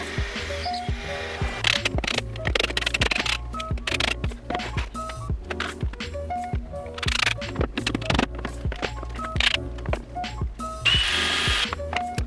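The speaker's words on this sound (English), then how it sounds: "I then screwed everything together using the pocket hole screws that came in the kit." Pocket hole screws from a kit are driven with a drill while a wooden bookshelf is assembled, producing repeated bursts of motor whir and ratcheting clicks between short pauses, close and fairly loud.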